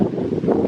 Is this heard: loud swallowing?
no